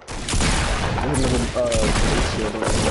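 Fortnite gunfire plays as a rapid, near-continuous burst of shots with game effects layered in, loud and steady across the whole stretch.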